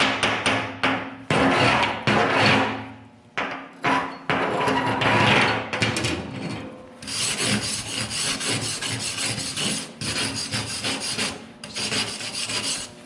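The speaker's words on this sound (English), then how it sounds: "I'll use a brush, a chipper hammer to clean that off" A chipping hammer knocks welding flux off a weld bead on a salvaged four-post vehicle hoist: loud, rapid metallic tapping and scraping in irregular bursts with short pauses, close to the microphone, no talking.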